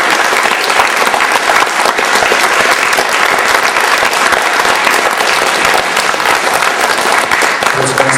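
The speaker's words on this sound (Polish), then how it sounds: "Także duże brawa dla nich." Audience in a school theatre giving loud, dense, sustained applause for a student cast after a premiere, an unbroken wall of clapping close and full for the whole stretch.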